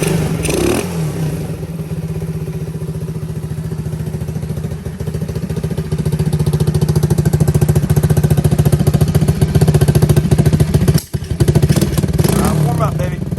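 A 2022 IceBear Champion motorcycle with a modified carburetor idling and warming up, a loud, steady chugging engine rhythm that grows slightly stronger midway, with a voice heard briefly at the start.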